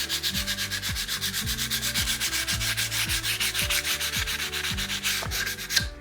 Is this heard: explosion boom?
no